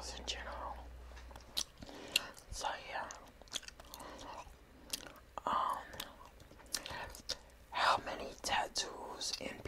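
Close, soft gum chewing with wet smacks and clicks in an irregular rhythm, mixed with quiet whispered talk, in an intimate ASMR setting.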